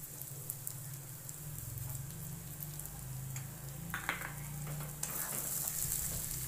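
Finely chopped country corn kernels sizzle steadily in an oiled kadhai with salt, a continuous close frying hiss broken by brief scraping stirs.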